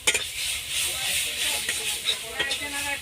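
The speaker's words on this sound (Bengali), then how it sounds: "2 চামচ আদা বাটা, ম্যাড্রাসি মশলা 2 চামচ দিয়ে ভালো করে ভেজে নেব" Ginger paste and Madras masala frying in a pan for a jackfruit curry, a constant hissing sizzle with light stirring and a few clinks of a utensil against the pan.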